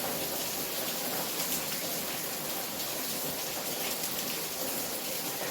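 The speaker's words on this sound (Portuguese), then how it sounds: "E o barulho que vocês estão ouvindo é de uma chuva muito forte que nós estamos tendo aqui agora." Very heavy rain pours down in a dense, unbroken hiss, loud and constant throughout with no pauses or other sounds standing out.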